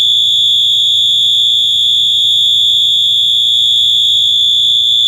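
A loud, steady 12V electronic alarm buzzer drones without a break, a harsh high-pitched tone with a faint low hum underneath.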